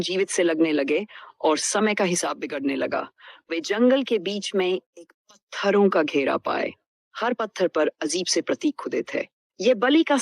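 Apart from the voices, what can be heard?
No everyday noises stand out.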